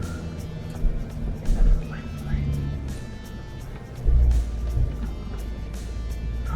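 An off-road vehicle crawls in low range, manual first gear, on Bendleby Station in the Flinders Ranges, its engine a steady low rumble with a few louder surges while people talk over it.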